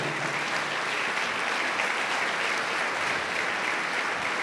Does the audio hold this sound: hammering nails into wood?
no